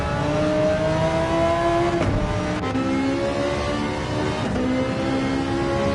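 An Audi Gr.3 race car engine in a sim racing game at Goodwood drones loud and steady, its pitch rising and falling with brief dips at the gear changes.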